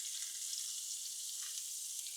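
Onion frying in a little oil and bacon fat, a steady, quiet hissing sizzle with no stirring strokes, close but faint.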